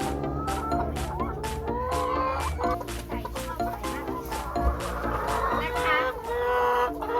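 Several laying hens cluck and squawk continuously nearby at their laying spot, busy and overlapping, with a rooster-like call rising among them.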